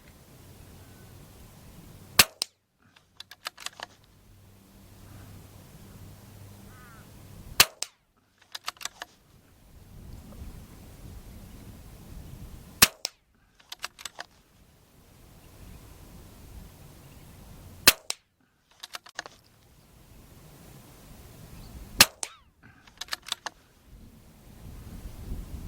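A CZ 452 rimfire rifle fitted with a March F 3-24x42 scope fires about five sharp shots spaced several seconds apart at targets, each crack followed by a faint metallic ring, with quiet gaps between.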